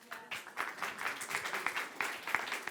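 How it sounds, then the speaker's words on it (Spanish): An audience at the MCA Festival 2019 applauds after a talk: steady, moderately distant clapping with uneven bursts that rise and fall for a few seconds. "un aplauso para Siley"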